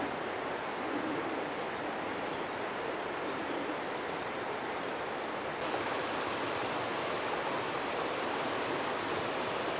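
Mountain stream flowing beside a hiking trail, a steady broadband rush of moving water heard continuously at moderate distance with no voices.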